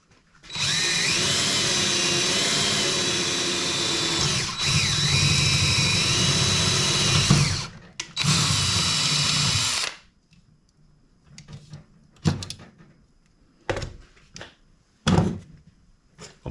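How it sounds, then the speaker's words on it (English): A power drill bores out the head of a pop rivet with one long steady whir that dips and rises, pauses briefly, whirs again, then stops, followed by scattered clicks and handling knocks. "I'm going to take the same size drill bit and drill."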